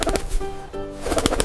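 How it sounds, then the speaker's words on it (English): A pigeon coos in a short, soft phrase of low, throaty notes, with a rougher burst near the start and end that may be rustling or flapping; no voices are heard. "This is a pigeon."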